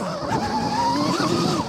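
An electric motorcycle climbing a slope as its rear wheel spins and slips, a rising and falling whine from the motor over a rough tire scrabble, close and steady for a couple of seconds.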